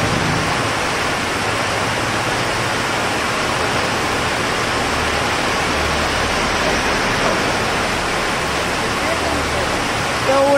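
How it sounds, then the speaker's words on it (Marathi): Heavy rain pours in a loud, unbroken hiss, a dense, steady downpour that stays constant throughout, close and enveloping. "एवढा जोराचा पाऊस आलाय,"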